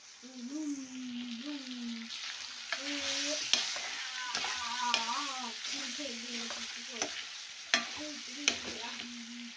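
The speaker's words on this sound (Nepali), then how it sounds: "गाइज प्याज पाक्दै छ।" Onions frying in a pan while meat, ginger, garlic and tomato wait nearby: a constant soft sizzle with occasional sharp taps, beneath a steady melodic humming voice.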